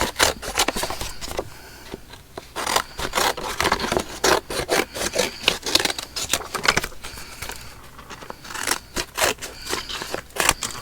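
Scissors snipping stitched threads off a plastic packaging junk journal page, a close run of rapid, uneven cuts and rustling handling sounds that continue throughout.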